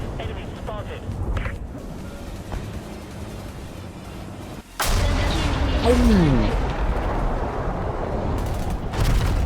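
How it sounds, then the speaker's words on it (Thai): A loud explosion in War Thunder bursts in midway, followed by sustained rumbling noise and a descending whine, after a stretch of steady background din. "ระเบิด"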